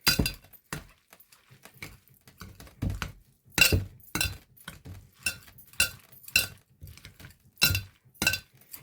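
A spoon mixes pie filling in a bowl, making a series of distinct clinks and knocks against the sides in an uneven rhythm, with short quiet gaps between strokes.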